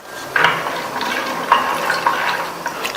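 A spoon stirs soaked peanuts with water and salt inside a pressure cooker, giving a few light metallic clinks and scrapes against a steady wet, sloshing background.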